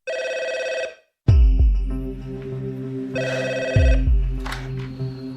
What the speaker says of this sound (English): The phone rang and I answered it